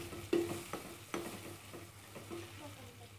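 A spoon stirs half a teaspoon of turmeric into softened frying onions in a pan, with a few soft scraping strokes over a faint steady sizzle, quiet and close.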